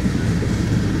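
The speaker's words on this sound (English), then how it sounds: "Goodbye, train." A train passing close by, heard as a loud, continuous low rumble and roar with steady broadband noise for about a second.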